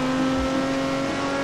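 A car in Forza Horizon 4 under full throttle, its engine holding a loud, steady, close-up drone with a strong humming tone for a short burst and no voices.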